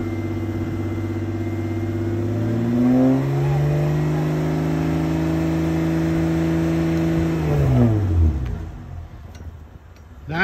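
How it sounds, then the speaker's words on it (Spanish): A car pulls away and drives forward on a road while fitted with snow chains, its engine note rising and falling steadily before fading to a quieter close. "Se va el carro Romero para adelante."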